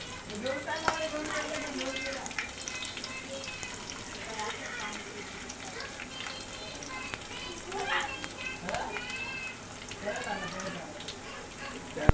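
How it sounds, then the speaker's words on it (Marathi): Garlic drops into hot oil for a Marathi-style split moong dal, and a soft, continuous frying sizzle runs beneath a person talking throughout. "त्यानंतर लसूण टाकायचा आहे"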